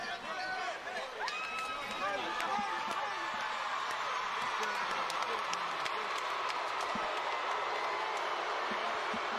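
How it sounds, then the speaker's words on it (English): A boxing event crowd cheering and applauding in a large arena, a steady roar of claps and shouts over a commentator's voice, with squeaks and thuds underneath. "The crowd showing their approval and their appreciation."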